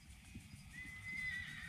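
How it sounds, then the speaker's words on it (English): Agitated horses neighing nearby at a racing venue, a rising whinny over a low rumble of hooves and movement, with no talking. "My horses are losing their minds."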